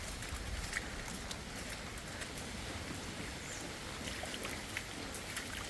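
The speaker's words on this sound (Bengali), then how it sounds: "আজকে ভাই সারাদিন বৃষ্টি বৃষ্টি" Steady rain falls during a day of constant rain, a soft continuous hiss of fine drops with occasional faint taps, fairly quiet and even throughout with no voices.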